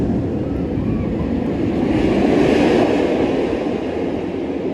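A loud, continuous rushing roar swells and fades slightly as a B&M roller coaster train thunders past close by, with no talking.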